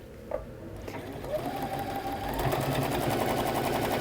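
A sewing machine stitching bunting, a short start then a steady, fast mechanical whir that builds and runs continuously close by, with no talking.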